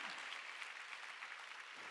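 A church congregation claps together during a Sunday worship service, a fairly quiet but even, continuous wash of applause with no talking.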